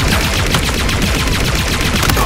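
Rapid, loud gunfire from the P Shooter weapon in Halo Infinite, a dense stream of shots in quick succession, close and without speech.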